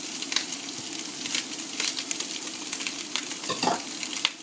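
Tomato paste for chilli con carne fries and is stirred around a pan, a close crackling sizzle broken by irregular scraping strokes.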